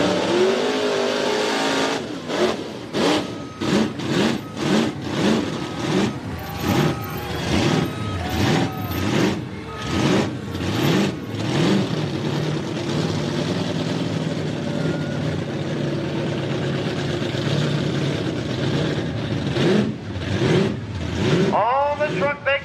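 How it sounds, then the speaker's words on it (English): A blown big block Ford race truck of over 500 cubic inches revs hard in a series of sharp bursts, then roars off the line at a Southern Showdown event at Millers Tavern, Virginia, loud and close over crowd noise. "Over 500 cubic inch blown big block Ford built by himself, Brian Sept."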